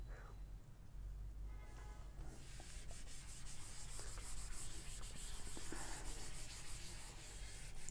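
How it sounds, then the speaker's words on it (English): A duster rubs writing off a board during a maths lesson, giving a continuous scratchy scrubbing that starts after about a second and runs steadily on, close and fairly quiet, with no talk. "I will rub the first part."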